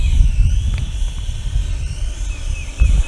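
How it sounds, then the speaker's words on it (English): Snaptain A15H geared camera drone in flight, a steady high-pitched whining buzz of small propellers over a rumbling wind-like low noise, loud and close, with the pitch wavering slightly as it maneuvers. "it flies nice, a little noisy, it's a geared drone"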